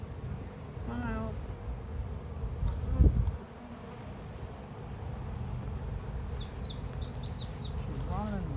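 Honeybees hum steadily at the entrance of a purple hive as foragers fly back in, a dense continuous drone with a few bird chirps near the end and people talking over it.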